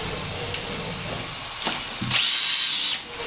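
A power drill drives Zip-Ez fasteners through 3-inch all-purpose duct wrap insulation, with short, close whirring bursts and one longer, louder run of drilling near the end.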